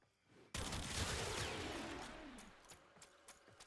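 Sustained burst of gunfire in Warframe aimed at level 190 heavy gunners, a loud dense volley starting abruptly and tailing off over a couple of seconds with scattered shots after.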